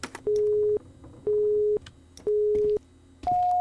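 A telephone busy signal from a horror video game beeps in four even tones about a second apart, each a half-second steady note, the last one higher, with faint clicks between.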